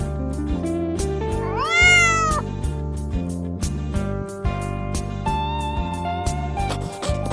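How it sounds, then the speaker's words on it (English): A single drawn-out cat meow rises and falls over bright, steady background music. "C for cat."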